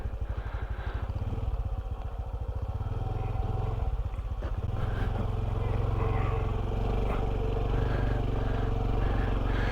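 A Honda CT125 motorcycle rides along, its small engine chugging with a rapid pulsing beat that steadies into a smoother, continuous drone after a brief gear change.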